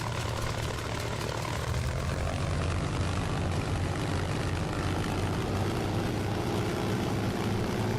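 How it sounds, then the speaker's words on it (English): Propeller warbird engine in Microsoft Flight Simulator droning steadily and loudly throughout, a constant low hum with a faint higher whine, alone without voices, as the fuel runs low over a field. "let's actually turn the sound up so I can hear the engine running out of fuel"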